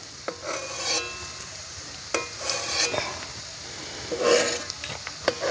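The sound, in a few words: garlic frying in a pan while being stirred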